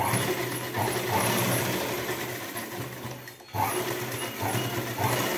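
A sewing machine runs in steady bursts while stitching a blouse, with a clear pause partway through, fairly close and loud with no voices.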